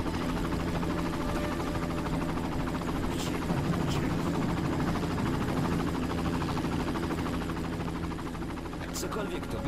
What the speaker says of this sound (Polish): i znowu helikoptery